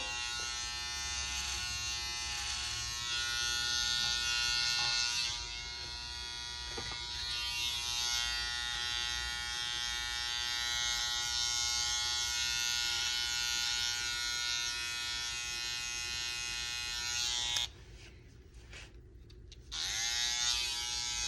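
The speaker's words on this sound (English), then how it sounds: "Kind of fine tune and detail that shape as well with your trimmer." An electric hair trimmer detailing a men's faux hawk haircut hums with a steady close buzz, briefly dipping in pitch when pressed to the hair and cutting out for a moment near the end.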